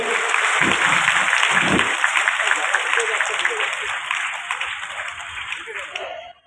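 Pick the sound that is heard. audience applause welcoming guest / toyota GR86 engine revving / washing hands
audience applause welcoming guest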